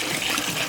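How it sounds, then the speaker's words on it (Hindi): Water poured onto 2 kg of jaggery for a jeevamrut mix on a farm, a steady close gush of liquid lasting under a second with no talk. "ये गुड़ में थोड़ा पानी डाल दो"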